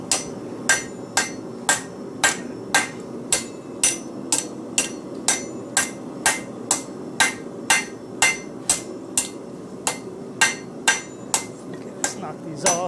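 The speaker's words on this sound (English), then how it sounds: "I'm pretty choked up on the hammer right there because it's kind of going for accuracy." A hammer strikes hot metal on an anvil while a nutcracker is forged, about two dozen sharp ringing blows in a steady, evenly spaced rhythm, loud and close with no talk.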